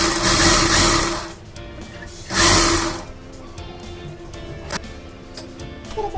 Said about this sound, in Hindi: अब हम लोगों को इसमें डबल सिलाई लगा देनी है।